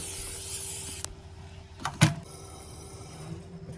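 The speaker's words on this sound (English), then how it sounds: "You want to grease this and set it aside." Cooking spray is sprayed onto a baking tin to grease it, a single sharp hiss lasting about a second. A few soft knocks and clatters of the tin follow in a quiet kitchen.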